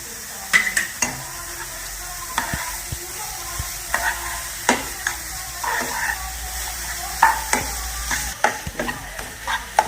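Grated coconut with sugar sautéed in a pan for coconut barfi, a spatula repeatedly scraping and tapping the pan in an irregular rhythm over a soft continuous sizzle, close and fairly loud.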